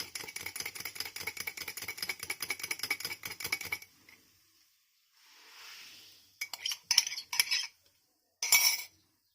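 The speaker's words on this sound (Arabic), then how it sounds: "هضربها بقى لحد ما يمتزجوا كلهم مع بعض" Biscuit dough mixed with ammonium bicarbonate being beaten fast in a bowl, a steady rapid rhythmic clatter for about four seconds, then a pause and a few short bursts of beating.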